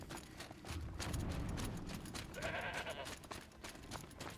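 In Horizon Zero Dawn, a goat bleats a few times at close range over background game sounds and soft hoof-like clopping, moderately loud and without talk.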